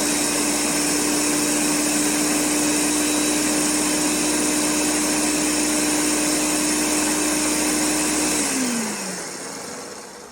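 A blender purees a salsa base in one loud, steady whir that holds for about eight seconds, then winds down as the motor stops.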